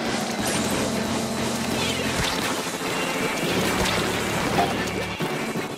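A rainstorm summoned by the Drizzler boss in Splatoon 2 makes a continuous dense patter and hiss of rain, with game sounds and crashes mixed through it at a moderately loud level.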